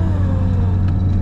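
Lada Niva engine held at full throttle in third gear on the Nürburgring, a steady loud low drone with a strong fundamental hum and layered harmonics, continuous without gaps.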